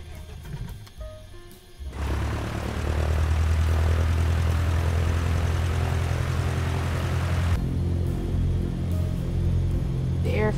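A propeller plane's engine in Microsoft Flight Simulator cranks over briefly, then catches and settles into a loud, steady low drone that continues to the end, with a short dip in the middle.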